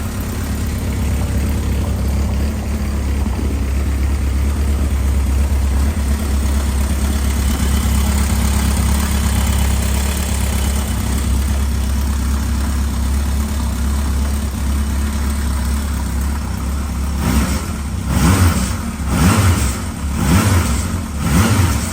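A 1977 Kawasaki KZ650 motorcycle engine runs at a steady, loud idle close by, a low continuous rumble, with a few throttle blips near the end; no talking.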